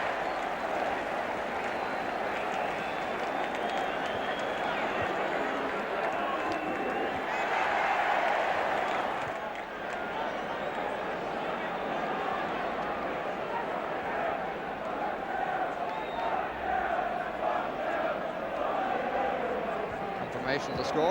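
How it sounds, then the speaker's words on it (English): A football crowd at a Southampton versus Manchester United match keeps up a broad, sustained roar after a goal, swelling briefly and then settling into a steady din, with a commentator talking over it. "Confirmation of the score from the crowd."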